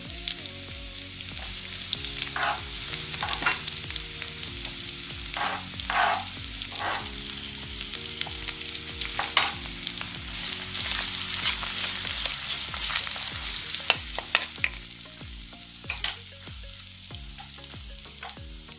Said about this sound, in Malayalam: ഇനി വെളുത്തുള്ളി ചേർത്ത് 2 മിനിറ്റ് ഫ്രൈ ആക്കുക.